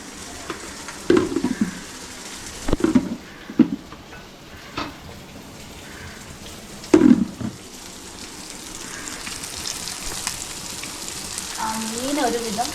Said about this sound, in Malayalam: മീൻ നല്ല രീതിയിൽ ഫ്രൈ ആയിട്ടുണ്ട്.